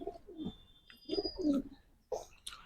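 Royal teddy pigeons coo in soft, low bursts with short pauses between calls, close by and alone without talk.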